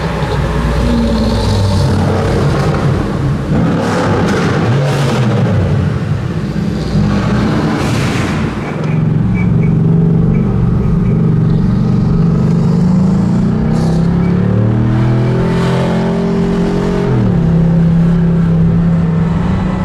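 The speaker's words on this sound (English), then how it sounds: "I'm getting a small taste of what it's like to drive on the Mille Miglia here, blasting and pushing the 300 SL." Mercedes-Benz 300 SL on the Mille Miglia road rally in Italy, its engine droning loud and close throughout, with rising and falling revs as it pushes through bends under steady road noise.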